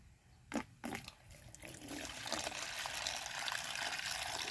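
Water pours from a tap or container for a thirsty, injured dog, starting with a couple of splashes and then running as a steady, faint trickle.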